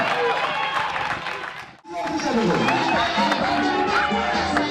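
At a school prize-giving ceremony, a crowd claps and chatters in a noisy hall, with continuous applause mixed with murmuring voices and a brief drop-out before the clapping and babble resume.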